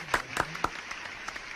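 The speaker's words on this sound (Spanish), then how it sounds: "un fuerte aplauso para Darío y Aníbal." A few distinct hand claps ring out in a radio studio to greet two guests, a sparse handful of sharp, close claps that quickly trail off into quieter scattered pats.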